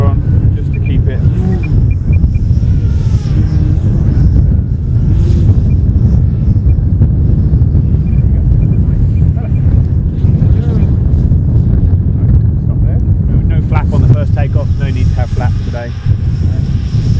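Steady crosswind buffeting the microphone outdoors as a model ARF airplane taxis, a constant low roar filling the whole stretch with a voice talking over it.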